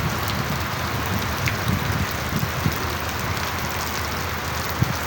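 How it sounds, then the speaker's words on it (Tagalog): Steady rain pours down in a dense hiss, with scattered drops pattering on nearby surfaces. "Naulan oh."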